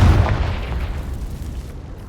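A Confringo fire spell blasts in Hogwarts Legacy, a loud booming explosion with a heavy low-end punch that rolls off and decays over about two seconds.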